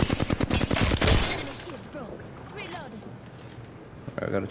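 Video game gunfire opens with a dense burst of rapid shots over the first second, then fades under in-game sounds and players chatting, with a few more shots near the end.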